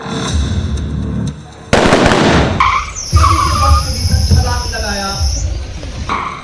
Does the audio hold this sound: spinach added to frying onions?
no